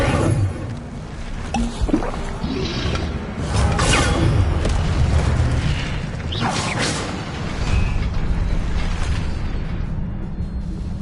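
A spell cast in Hogwarts Legacy sends out a loud burst of magical fire with a booming whoosh and crackle, set over steady game ambience and background music.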